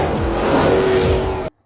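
Black cars moving through a dim underground parking garage in a film action scene, a loud roaring engine and tire rush sustained for over a second before cutting off abruptly to silence.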